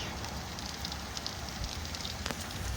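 Hail falls outside in a steady, fine pattering hiss, faint and even, with a few sharper taps standing out near the end.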